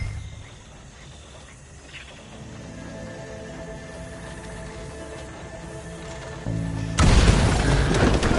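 Explosive charges detonate in Red Dead Redemption 2 in Saint Denis. A sudden loud blast and crashing burst arrives near the end after a stretch of quieter background ambience.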